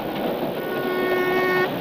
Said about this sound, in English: As the train zoomed along